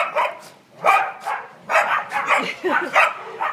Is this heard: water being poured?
no